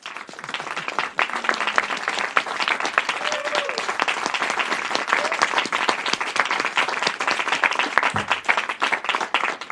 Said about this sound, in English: let's give everybody a warm round of applause.